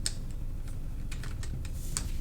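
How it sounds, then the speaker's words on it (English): Keys clatter on a computer keyboard as math answers are typed in, a quiet close series of irregular clicks over a low room hum with no talking. "I'm gonna go ahead and type those into to Delta Math"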